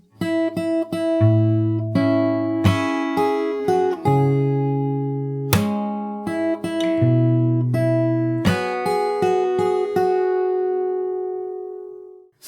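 Fingerstyle acoustic guitar plays the next part of a song, a measured run of plucked notes and chords over low bass strings, ending on a long ringing chord that fades out, close and unaccompanied.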